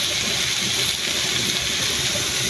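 Water running steadily into a pan of sautéed squash with egg, a continuous close rushing gush lasting the whole moment with no voices.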